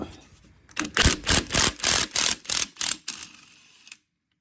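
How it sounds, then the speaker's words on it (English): A socket wrench on an extension ratchets a bolt out of a 125cc Apollo Commander scooter's automatic clutch, eight loud, evenly spaced clicking bursts close up, then silence. "Now we just take our special socket and take off this bolt"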